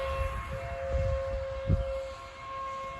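A tornado warning siren in Carrollton, Ohio drones as a faint, steady tone far off, almost hidden under low wind rumble and a soft thump.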